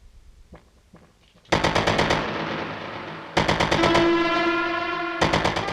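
Harsh, rapid repeating pulses from a Eurorack modular synthesizer delay with the feedback maxed out, stuttering in loud bursts with a ringing tone building underneath.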